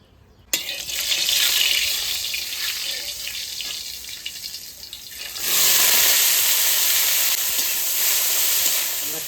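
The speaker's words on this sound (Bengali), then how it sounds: "এবার ব্রকলিটা ভাজা করব।" Broccoli fries in hot oil in a pan in a home kitchen, giving a steady hissing sizzle that starts abruptly and swells louder and brighter toward the end, with no talking.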